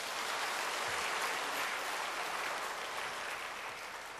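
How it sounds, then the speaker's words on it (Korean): Congregation applause during a dawn church service, a steady wash of distant clapping that holds evenly for a few seconds with no voices over it, faint and somewhat muffled. "박수해 주시죠."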